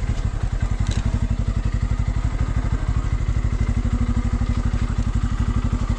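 A motorbike engine thuds and chugs close by in a fast, steady pulse while riding over a rocky road on a ride in Ilam. The rumble stays loud and continuous, with faint clatter over it.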